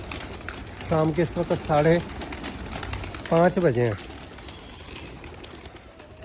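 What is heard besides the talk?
pigeons cooing at evening flying time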